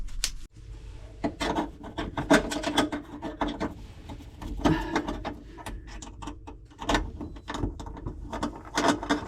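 A power drill on hammer setting drives a screw into a kitchen worktop, a steady close rattling, ratcheting grind that stops briefly near the start, then runs in uneven bursts without talk.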